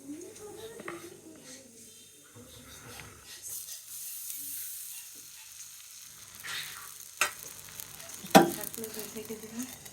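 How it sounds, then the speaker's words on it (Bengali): Rice batter for chitoi pitha hits a hot pan and sizzles quietly, with scraping and clinking from the pan and a voice talking alongside. "এটা এখন দিব কড়াইতে। কড়াই গরম হয়ে গেছে"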